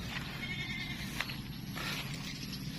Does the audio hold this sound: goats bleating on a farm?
yes